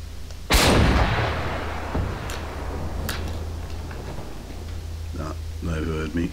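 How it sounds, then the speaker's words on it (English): A rocket launcher fires in the video game Generation Zero: one loud, sudden blast followed by a long rumbling decay, then a few sharp cracks and distant reports, with a voice speaking briefly near the end. "Oh, no, I'll just shoot a rocket."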